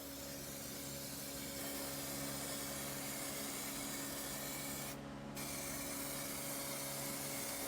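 A spray gun applying lacquer to furniture gives a steady, even hiss of atomized spray with a low hum underneath, continuous and close throughout with a brief change near the end, no talk.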